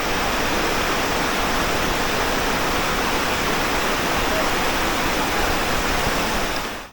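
A rainy-season waterfall and fast, deep current at Kupikatakhum on the Napittachora trail roar in a loud, continuous wash of white noise that stays close and unbroken before cutting off at the very end.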